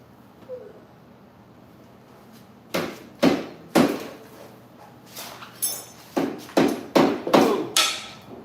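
Hammer strikes ring out after a quiet start, first a few spaced blows, then a quicker run of loud, close knocks, while installing vehicle shocks.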